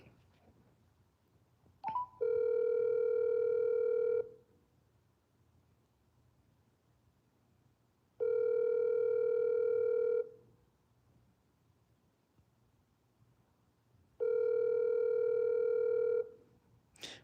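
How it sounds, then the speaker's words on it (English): An outgoing telephone call ringing back on the line: three steady two-second ring tones separated by about four seconds of near silence, clear and alone with no talk. "the phone's not off because it's ringing"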